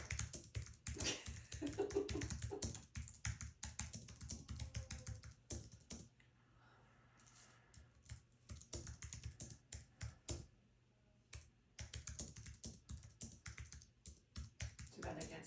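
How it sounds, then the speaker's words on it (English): Two-finger typing on a computer keyboard, a halting run of loud, close key taps that pauses briefly midway, with people talking over much of it. "I love how you type."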